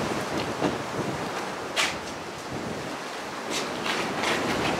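Steady wind gusting at the coast near Dover, roaring continuously as a broad, loud rush across the microphone with no voices.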